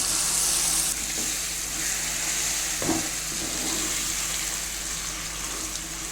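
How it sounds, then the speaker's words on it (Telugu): Steady, loud hiss of ground chutney paste with turmeric frying in hot oil throughout, with one brief stir or clatter partway through; no voices. "అట్లా కొంతసేపు పచ్చని బాగా ఫ్రై చేసుకోవాలి ఆయిల్"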